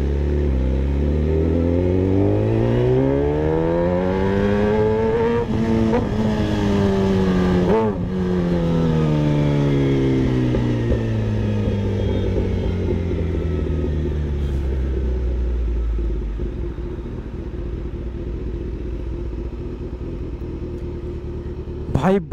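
A Kawasaki ZX-10R superbike revs hard while being ridden, its engine note climbing and falling repeatedly through gears before settling into a lower cruise, loud and close with a rider talking over it.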